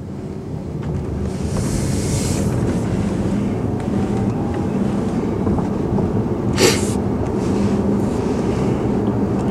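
A single short sneeze bursts out inside a moving Tesla Model S Facelift, over a constant rumble of road and tyre noise in the cabin.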